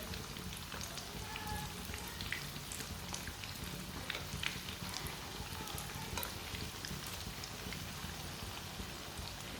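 Leftover rice kebabs fry in a pan over medium heat, giving a steady, dense sizzle with fine crackles that continues evenly throughout.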